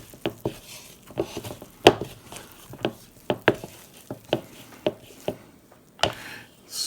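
Shaggy bread dough stirred with a spatula in a bowl, giving a series of soft, irregular wet squishes and light scraping taps, each one short and close, with no talking.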